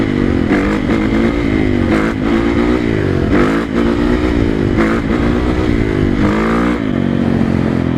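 A 2012 Honda CRF450 dirt bike, already warmed up, revs loudly and continuously up close, its engine note rising and falling in repeated throttle blips over a steady rough idle.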